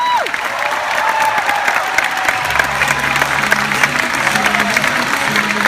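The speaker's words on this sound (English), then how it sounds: "Give yourselves a round of applause." Loud, sustained applause from an audience, dense clapping filling the room throughout with a faint low hum joining partway.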